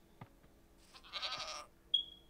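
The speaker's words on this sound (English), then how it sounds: "That's a goat." A Minecraft goat gives a short nasal bleat, faint and alone, with a brief thin chirp after it amid quiet game ambience.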